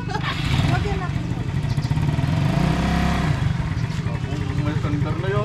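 A Yamaha Mio Sporty motorcycle engine runs with a steady, close rumble throughout, heard under people talking nearby.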